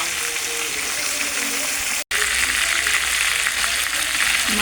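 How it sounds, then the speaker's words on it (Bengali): Four chicken pieces shallow-frying in hot oil until lightly browned on both sides, a steady dense sizzle throughout with a brief cut in the middle. "মাংসগুলো হালকা ব্রাউন করে দুই পাশে ভেজে নেব।"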